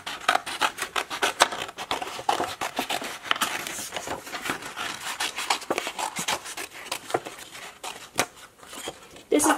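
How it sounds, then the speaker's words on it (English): Scissors snip repeatedly through paper or felt while cutting a circle for a doll's hat, a close, steady run of crisp cuts with a person talking over them. "To make her a hat, we're going to cut out a circle."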